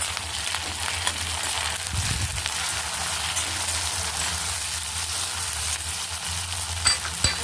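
Tomatoes go into a prawn and ridge gourd curry frying in a pan, making a steady, dense sizzle throughout, with a few small clinks near the end.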